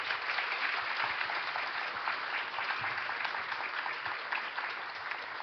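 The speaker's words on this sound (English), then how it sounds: "express your thanks to all these speakers with big applause" A conference audience at an Asia-Pacific ADR session gives sustained applause, a dense, even wash of many hands clapping throughout, moderately distant and without speech.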